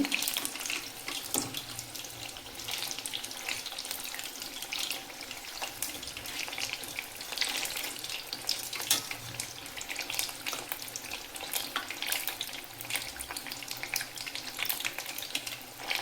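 Chili fritters (mirchi bajji) deep frying in hot oil give off a dense, continuous bubbling crackle, loud and close, holding steady throughout with no speech.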